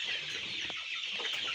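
Village chickens clucking close by in short, overlapping bursts with a constant background hiss.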